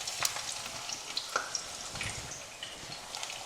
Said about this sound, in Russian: Видите, как они уже начинают жариться?